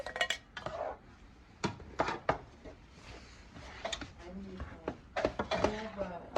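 A utensil scrapes and clinks against a pan while cooked hamburger, carrots and peas are mixed together. Scattered metallic knocks and clatters come up close, with quieter stretches between them and soft talk in the background.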